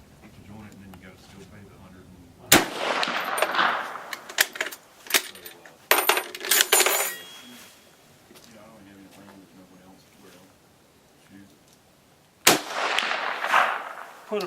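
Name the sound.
Carcano M91/38 Cavalry Carbine rifle shots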